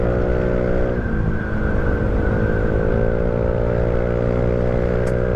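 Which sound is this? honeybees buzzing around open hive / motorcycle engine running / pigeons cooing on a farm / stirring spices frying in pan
motorcycle engine running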